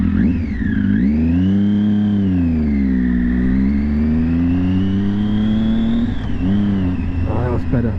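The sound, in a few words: car engine revving while shifting gears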